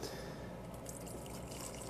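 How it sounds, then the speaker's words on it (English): Water drains from a pot of cooked noodles through a gap under the pot lid, producing a soft, steady pouring trickle with light splashes at close range and no speech. "I'm going to strain it with a lid, and it's probably going to be an epic fail."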